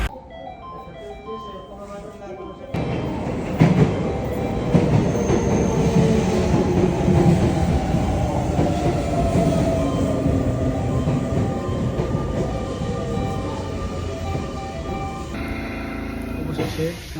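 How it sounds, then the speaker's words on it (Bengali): A train pulling into a station in Japan, a loud, sustained rumble and rising rail hum that builds after a brief quieter stretch, with voices under the noise. "অবশেষে ট্রেন পর আসছে"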